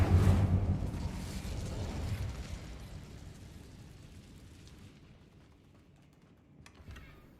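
Incendio fire spell cast in Hogwarts Legacy: a loud, roaring burst of flame that swells at once and then fades into a long crackling, rumbling decay, with a faint clatter near the end.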